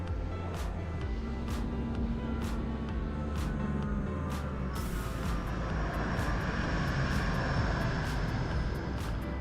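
A Spitfire in the Microsoft Flight Simulator game flies past, a continuous droning piston engine roar with steady broadband rush and faint periodic clicks, swelling slightly toward the end.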